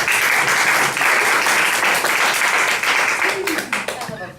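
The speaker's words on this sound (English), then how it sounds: "Round of applause." Audience applause, a loud, dense burst of clapping that fades toward the end as a voice begins speaking.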